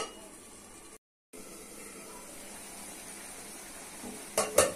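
Soybeans and tomato sizzle softly in a pan. The quiet, steady frying hiss stops briefly near the start, and a sharper clatter of cookware comes at the end.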